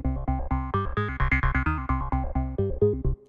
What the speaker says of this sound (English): we start with super simple synthesizer sound.